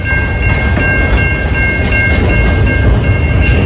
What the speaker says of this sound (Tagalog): Hindi umaandar sa haba ng train na yan.